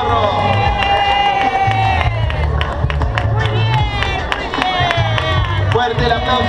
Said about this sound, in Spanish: Fuerte el aplauso para ella recibiendo su premio.